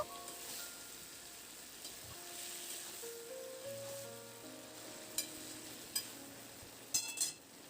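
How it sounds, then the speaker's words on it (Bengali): Mixed vegetables for a Bengali pachmishali sabji sizzle softly in oil while being stirred, a quiet continuous fry under background music, with a few sharp utensil clinks near the end. "সেই সবজিটা দিয়ে দিলাম তেলের মধ্যে এটা খুব ভালো করে নাড়াচাড়া করে কয়েক মিনিট ধরে রান্না করে নেব"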